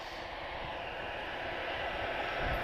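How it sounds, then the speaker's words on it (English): A CFM56 jet engine on a first-generation Airbus A320 at Madeira Airport gives a steady, loud broadband roar with a hissing top, holding constant and swelling slightly toward the end, with no talk over it. "This is a CFM 56 engine. So this is one of the first generation A320s, so not a Neo."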